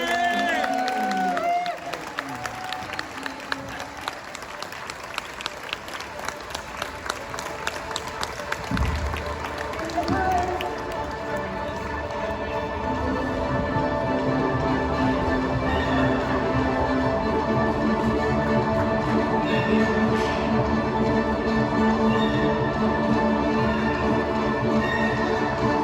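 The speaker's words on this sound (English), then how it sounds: "give Katee a round of applause" An audience at Comic Con Brussels gives Katee Sackhoff a round of applause, starting as scattered claps and swelling into a loud, sustained crowd roar with cheering, while voices talk over it.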